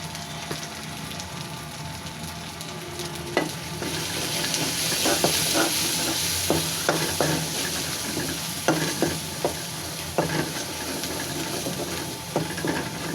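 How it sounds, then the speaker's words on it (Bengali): Ground cumin, coriander and garam masala frying in oil, a constant close sizzle broken by repeated sharp scraping knocks of stirring, with no voices. "মশলাটা ভাজা হয়ে গেছে,"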